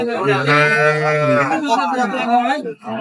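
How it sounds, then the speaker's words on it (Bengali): A cow at a cattle market with her calf gives a long, loud, drawn-out moo close by, followed by a second shorter call. "গাভী বাছুর আমরা দেখছিলাম এখানে"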